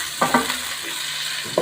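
Two medium chopped onions go into hot oil in a pan for a mutton and round gourd curry, a steady close sizzle punctuated by a few sharp clinks of a spoon against the pan.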